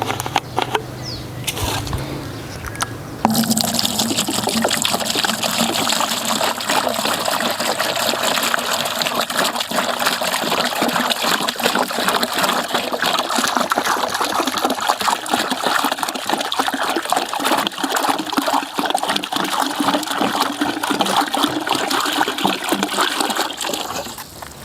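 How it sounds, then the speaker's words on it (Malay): Water pours and gushes steadily into a barrel being filled for homemade grass fertilizer, a constant splashing stream after a quieter start, with no talking. "Kita isikan dengan air dulu."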